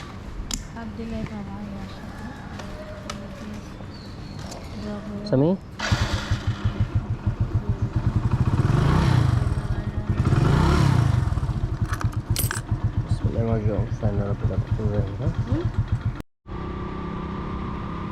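Motorcycle on an early-morning road trip to Nikli, engine starting and revving with a throbbing chug that rises and falls, keys jangling at first and someone talking over much of it.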